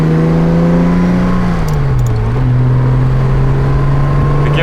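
A 1965 Jaguar XKE Series I 4.2 roadster drives along, its engine droning loud and close with a steady hum that dips in pitch as it shifts and then settles, under constant road and wind noise.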